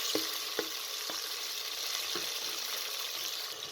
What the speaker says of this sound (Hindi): चिकन को डालकर आपने तकरीबन 2 से 3 मिनट तक भून लेना है